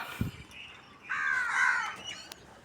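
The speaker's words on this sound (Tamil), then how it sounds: "இங்கே ஒரு வெள்ளை காக்கா." A single white crow caws a couple of times, fairly faint against quiet outdoor background.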